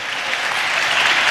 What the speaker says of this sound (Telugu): అందరం చప్పట్లు కొడుతూ స్తోత్రాలు చెప్దాం.